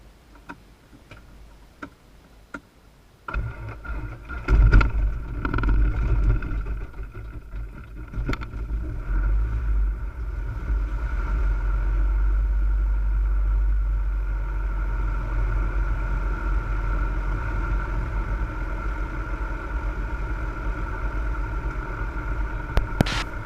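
Small propeller airplane engine on a first solo flight, starting up: a few faint clicks, then it catches near the four-second mark and settles into a loud, steady close-up drone that runs to the end.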